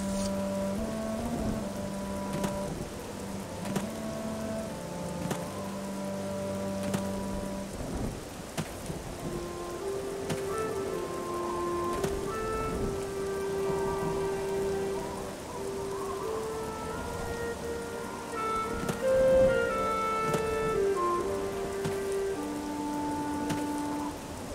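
Rain falling in the fantasy role-playing game Nehrim, a constant hiss of rainfall with thunder rumbling, along with steady background music tones throughout.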